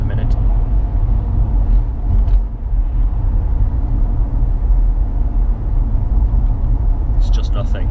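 Low, steady road rumble inside the cabin of a Lexus LS400 driving on a broken A road, a dense, continuous hum with only faint brief clicks.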